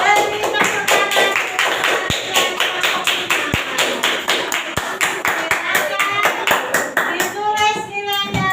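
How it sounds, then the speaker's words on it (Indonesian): Classroom pupils clap for a group 5 representative, a fairly loud run of overlapping hand claps with some sharp individual slaps, continuing steadily for several seconds before tapering off at the end. "Beri tepuk tangan."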